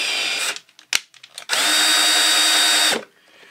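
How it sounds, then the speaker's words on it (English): A power drill bores slowly into a metal ammo can to make a hole for a panel switch, with a short whine, a pause of scattered clicks and bursts, then a longer steady drilling run that stops abruptly. "I'm gonna drill very slowly"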